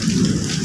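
Steady rain falls at a construction site during a storm, a dense close wash of drops with low rumbling energy underneath that fits distant thunder, continuous through the brief moment with no voices.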